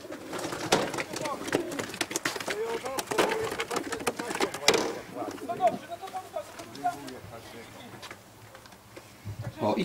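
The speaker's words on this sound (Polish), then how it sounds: "I kolejne gołębie są koszowane" Racing pigeons coo and flutter close by in a busy loft during basketing for a competition flight, with people talking over the birds throughout.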